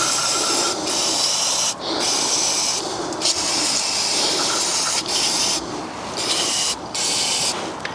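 Aerosol brake cleaner sprayed in bursts onto a BMW F20/F21 1 Series rear brake caliper, a close, loud hissing spray that repeatedly pauses for short gaps and resumes.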